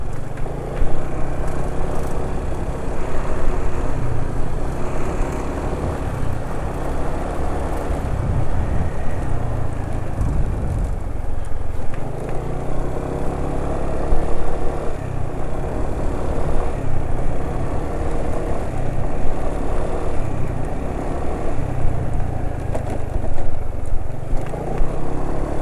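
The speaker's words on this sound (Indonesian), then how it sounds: "Suara mesin jadi kayak gini, parah ya." An engine runs continuously up close after reconditioning, with a rough, steady drone and rattling texture, no one speaking.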